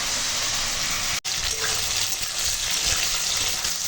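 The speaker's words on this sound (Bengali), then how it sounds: "আর দেখো এখন ঢেঁড়সটা ভাজা হয়ে গেছে" Okra (bhindi) fries in a pan with a close, steady sizzle that fills the whole stretch with no talking, cut by one brief dropout near the start.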